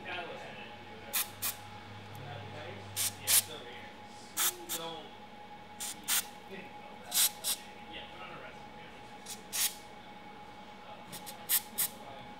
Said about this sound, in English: lube those same pivot points with the VDM18